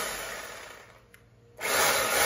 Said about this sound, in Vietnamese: Cũng là một con khoan bê tông 3 chức năng.